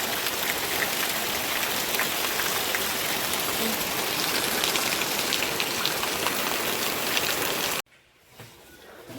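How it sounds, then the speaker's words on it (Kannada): Heavy monsoon rain in Kodagu under a red alert pours in a dense, loud, steady hiss of drops on surfaces, then cuts off abruptly near the end to near quiet. "ಎಷ್ಟು ಜೋರು ಮಳೆ ಬರ್ತಾ ಇದೆ"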